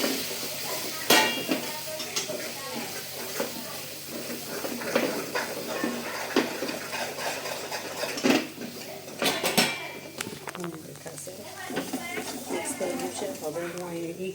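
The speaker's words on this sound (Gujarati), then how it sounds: "એને હું હલાવી દઈશ" Gravy for sev usal being stirred in a pot, with spoon clinks and scrapes against metal over a low simmer, a person talking throughout.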